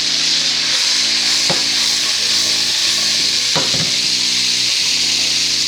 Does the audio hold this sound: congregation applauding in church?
no